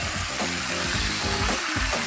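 Steady, dense sizzling of black-eyed peas and vegetables frying in hot olive oil, continuous and close, with a few faint stirring knocks.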